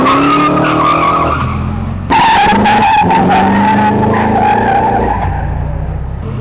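A Ford Mustang leaving a car event skids on an oil-slicked track, tires squealing loudly over a revving engine for several seconds, close and sustained.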